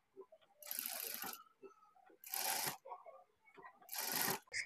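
A sewing machine stitches blouse lining in three separate bursts of mechanical whirring, each about half a second long, with quiet pauses and small handling noises between them. The sound is close and clear.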